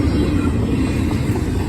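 A Norfolk Southern intermodal freight train rolls past close by, a steady low rumble of wheels and cars that stays loud and even throughout, with no voices.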